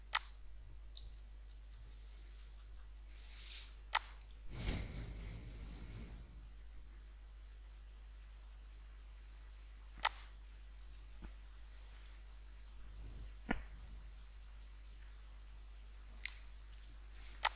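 A computer mouse clicks while a file is chosen for upload: a handful of sharp, isolated clicks spread several seconds apart. They are quiet and close over a faint low hum, with no talking.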